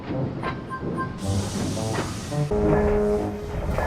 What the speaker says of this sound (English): Then he wheeshed some steam.